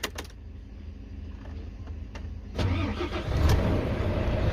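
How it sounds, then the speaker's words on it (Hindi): A 2014 Volvo truck engine cranks and turns over after some quiet idle clicks, then settles into a steady, louder running rumble nearby. "गाड़ी को स्टार्ट करते हैं।"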